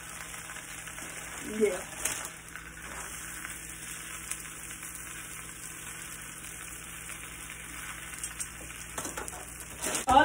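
A bag of spinach sizzles steadily in a pan while wilting, a low continuous frying hiss with a few soft knocks and stirring sounds, and a brief spoken word near the end.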